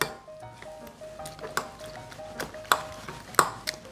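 Spoon clinking against a bowl while stirring beaten egg with laver, chopped green onion and cheongyang chili, a series of light irregular taps and scrapes, close and fairly quiet with no talk.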